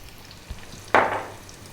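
Onion and garlic hit hot coconut oil in a pan with a sudden sizzle that bursts up after a small clink, then fades slowly; close and fairly quiet, no talk.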